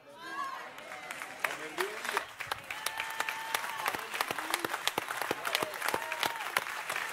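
Congregation clapping at a prophetic church service, a dense run of sharp broadband claps sustained across the clip with voices and cheering mixed underneath.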